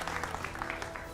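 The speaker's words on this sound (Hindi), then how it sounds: "जोरदार तालियों से स्वागत।" A television studio audience claps steadily, a dense patter of many hands applauding together at moderate volume.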